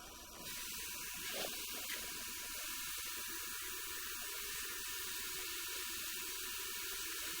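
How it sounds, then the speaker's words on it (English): A sink faucet turned on, water spraying and running steadily with a continuous hissing rush after a brief quiet start. "I want you to turn that, turn that sink on"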